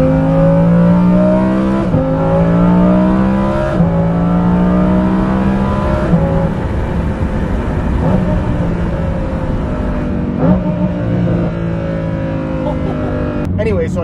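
A Lamborghini Huracan Performante with a Kline Inconel exhaust revs repeatedly, rising and falling in loud throaty bursts with steady drone between them.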